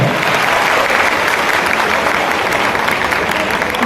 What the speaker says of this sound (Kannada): ಒಂದ್ಸಗೆ ಬರಲಿ ಜೋರಾಗಿ ಚಪ್ಪಾಳೆ.